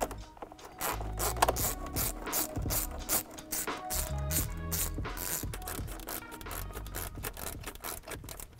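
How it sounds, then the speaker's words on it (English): A ratchet clicks and grinds up close while hose clamps are loosened on the airbox and snorkel of a 2015–2020 Ford F150 EcoBoost V6, with rapid metallic ticking and rubbing that runs steadily without speech. "The first thing we need to do is remove these hose clamps."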